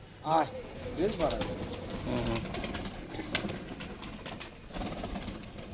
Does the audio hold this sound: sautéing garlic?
no